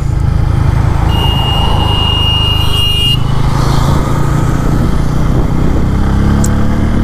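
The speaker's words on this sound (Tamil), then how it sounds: "இதோட எக்ஸாஸ்டோட சவுண்டு வந்து பார்த்திங்கன்னா அவ்வளோ நல்லா அப்பீலிங்காக இருக்கும்" A 2025 Bajaj Pulsar N160 base-model motorcycle exhaust, heard loud and close as a steady, continuous engine drone with no speech over it.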